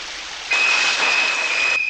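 Film sound effect of a running shower, boosted and pushed into saturation: a steady hiss of spraying water that jumps louder after half a second and stays dense and harsh, with a thin whistling tone on top.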